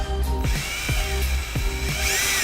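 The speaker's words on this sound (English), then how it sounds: "now I'm going to go ahead and take a drill, put a hole in here so I can push my wire through that." A power drill bores a hole through the flood plug underneath a 2018 Lincoln Continental: a close, steady mechanical whine broken by regular grinding pulses about every half second as the bit bites into the plug.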